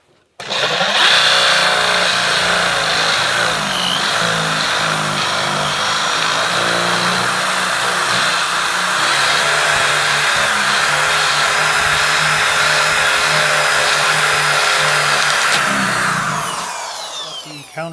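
A power drill bores countersunk holes in the floor for a handcrafted railing, running as one steady, loud, continuous whine for nearly the whole stretch before cutting off at the end.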